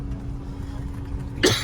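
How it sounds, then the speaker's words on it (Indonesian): A single short, sharp cough bursts out near the end, close and loud above a steady low rumble like a running car engine. "Aduh batuk"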